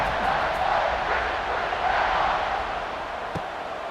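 Stadium crowd roaring steadily at kickoff in an Ohio State college football video game, a broad sustained wash of cheering and chanting that swells slightly and then eases, with no clear voices on top.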